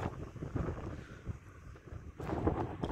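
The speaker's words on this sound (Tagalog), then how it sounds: "Mahangin guys, sobrang hangin, ang sarap." Gusty wind in Abha buffets the microphone in uneven bursts, rumbling and rising louder toward the end, with no voices.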